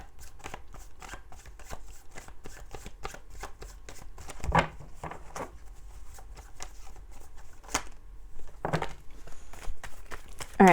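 Tarot cards being shuffled in a Leo reading, a steady run of quick riffling flicks and soft slaps, close and moderately loud, with a few louder bursts and no talking.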